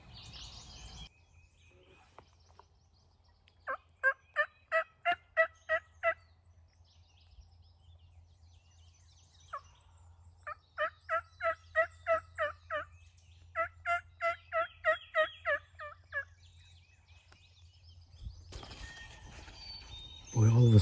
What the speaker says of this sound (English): I just heard a gobble a good ways out.